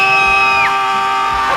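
A student at a high school football game gives a loud, sustained sideline scream with a sharp pitch bend partway through, ringing over a crowd-like background.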